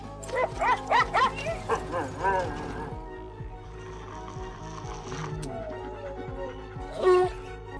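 A dog barks rapidly in a burst of several sharp barks, then quieter sounds with another bark near the end.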